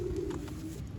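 Soft, low cooing from a young pigeon, a steady murmuring call held close and continuous for a moment with no other sounds on top.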